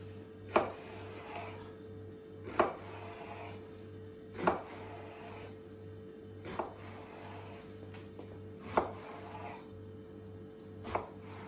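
A knife chopping food on a board in a kitchen, six evenly spaced firm chops about two seconds apart, close and clear over a faint background hum.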